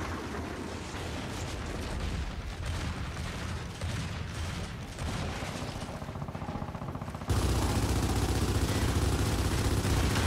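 Dense, continuous gunfire and mechanical combat noise from the Gears of War 4 beta on Xbox One, loud and sustained throughout with a sharp jump to a fuller, louder roar partway through.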